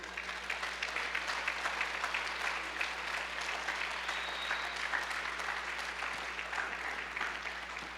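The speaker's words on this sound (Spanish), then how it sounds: "Denle un fuerte aplauso a Cristo." A church congregation gives strong, sustained applause during a Spanish-language service, steady dense clapping from many hands over a low constant hum.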